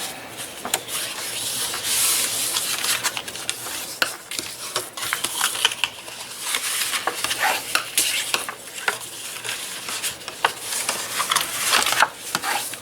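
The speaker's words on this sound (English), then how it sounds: "Then you just want to fold and burnish your score lines." Paper is folded along score lines and burnished, producing continuous close rubbing and scraping with brisk, irregular swishes and soft crinkles, with no talk.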